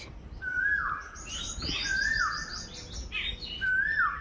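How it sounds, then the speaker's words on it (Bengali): An Asian koel calls three times from a distance in the morning, each a rising-then-falling whistled note, with softer chirps between and a quiet outdoor backdrop. "শুনতে পাচ্ছ সকাল সকাল কোকিলের ডাক?"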